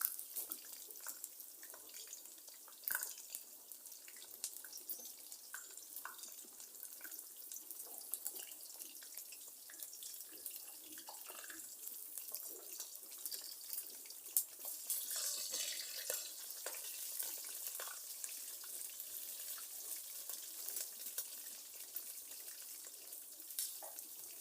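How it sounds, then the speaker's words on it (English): Chicken gizzards deep frying in oil over a jiko charcoal stove at a street food stall give off a faint, steady sizzle and crackle with scattered small pops. "I give you a closer look at the gizzards as they deep fry"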